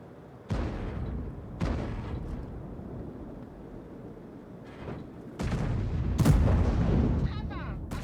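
In the World of Tanks video game, an enemy MLR fires several loud, booming artillery blasts, each followed by a rumbling tail, with two close together near the end.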